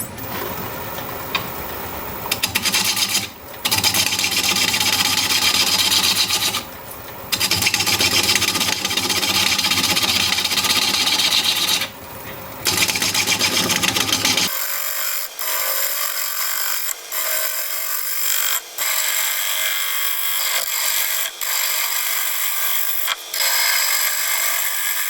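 A large maple burl bowl is turned on a lathe at almost 500 RPM with a freshly sharpened bowl gouge, giving a loud, continuous scraping and cutting roar broken by brief pauses, then a thinner, lighter cut in the second half.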